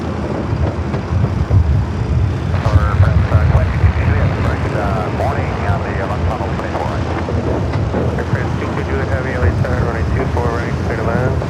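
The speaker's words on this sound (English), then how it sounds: "Copa 737 MAX 9, the flight heading to Panama City," Copa Boeing 737 MAX 9 taking off at Los Angeles International Airport, a loud sustained jet engine roar building and holding throughout, with a person talking over it for much of the time.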